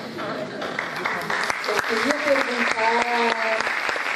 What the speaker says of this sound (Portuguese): Eu aplaudo vocês com as duas mãos